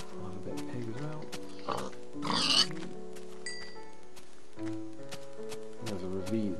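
Pigs oinking in the Minecraft video game, several short grunts spread across the scene, moderately close, with a voice speaking between them.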